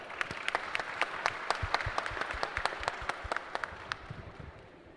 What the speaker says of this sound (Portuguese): Vamos aplaudir mais uma vez